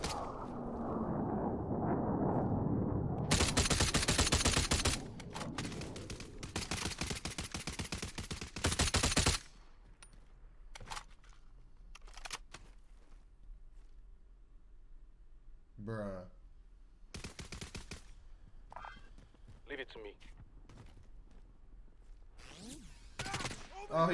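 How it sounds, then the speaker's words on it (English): Three-round burst DMR gunfire in Warzone, with rapid, dense bursts of shots that are loud early on, then scattered sharp cracks further off, under a speaking voice. "Bro, it's like a 3-round burst DMR."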